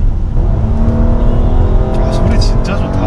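A Kia Carnival engine revs loudly close by, a rumbling steady drone that builds slightly, while a person talks over it.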